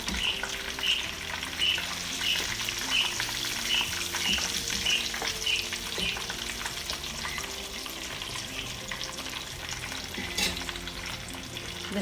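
Fish frying in a pan for an Arabic fish-with-vegetables-and-rice dish, a steady close sizzle and crackle running continuously with occasional stirring scrapes and no talking.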